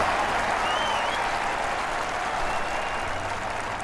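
A golf gallery at Royal Troon in PGA Tour 15 breaks into sustained applause, a steady wash of clapping held at even loudness throughout.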